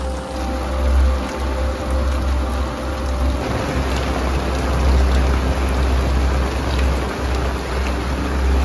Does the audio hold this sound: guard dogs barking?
no